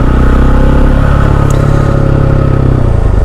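KTM 690 SMC R supermoto single-cylinder motorcycle being ridden, a loud, close, steady engine thrum with a rough pulsing note and no talk.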